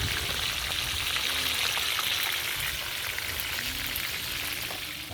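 Fish frying in a pan hisses with a steady, dense sizzle close up, continuous and fairly loud with no talking.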